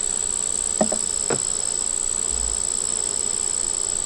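Honey bees buzz steadily around an open hive under a faint, constant high-pitched whine, with a few brief clicks near the start and a low thump midway.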